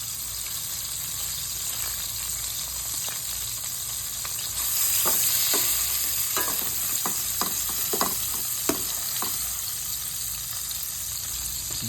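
Prawns frying in oil in a pan, a steady close sizzle with soft scraping stir strokes from the second half onward.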